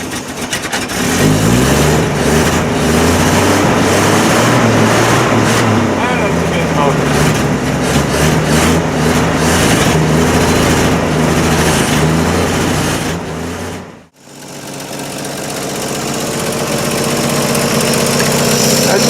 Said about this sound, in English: That's such a smooth running motor.